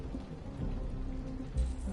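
Steady rain hisses and patters in a scene from the video game Detroit: Become Human, a dense even wash of sound with a low rumble beneath and a brief thump near the end.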